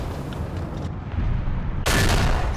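A tank cannon fires in a Panzer IV/70 video game, one loud sharp blast that lands abruptly over a steady low engine rumble.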